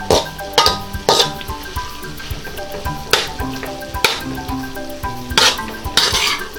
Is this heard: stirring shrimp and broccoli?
yes